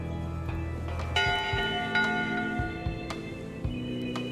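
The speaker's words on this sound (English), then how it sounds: "Top deck schedule. 1 bell, crew voting. 2 bells, LeChuck shouting." A ship's bell rings in Return to Monkey Island, several clear metallic strikes that hang and ring out over a low game music bed, with no talking.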